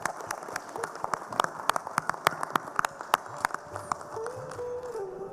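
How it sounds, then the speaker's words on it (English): Scattered, uneven claps come from a modest audience at a medical conference hall. The sharp individual hand claps thin out toward the end, and murmured voices sit underneath. "Stand up and clap loudly."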